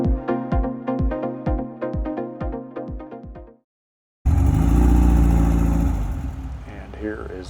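A Porsche 914 engine on its first drive after a year-long restoration, first thumping in a steady, rhythmic idle, then after a brief pause surging into a loud, close, sustained engine roar that gradually eases off.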